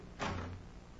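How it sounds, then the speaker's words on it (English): Doors swinging shut in an old radio drama, a single muffled thud followed by a brief low rumble, moderately loud against a quiet background. "Out this way and shut the doors behind us."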